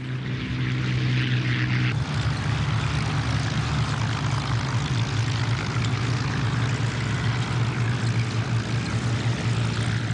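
A vintage propeller aircraft with fabric-covered fuselage drones steadily and loudly overhead, a continuous engine roar with no speech.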